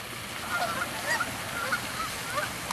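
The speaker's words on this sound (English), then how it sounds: "Look at all the geese." Geese honking in a loose, repeated chorus of short nasal calls over a steady background rush, with no talking.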